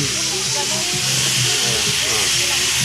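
Pork meat dropped into hot rendered pork fat sets off a loud, continuous close-up sizzle and hiss, with someone talking over it.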